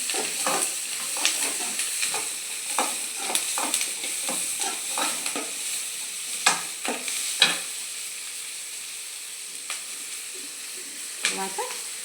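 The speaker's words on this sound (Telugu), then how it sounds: "తర్వాత పచ్చిమిర్చి కూడా ఇందులో వేసేసుకొని బాగా వేయించుకోవాలండి" Garlic, onion and ginger frying in a pan, a steady bright sizzle with repeated scraping stirs and clinks throughout, loud and close, with no talk.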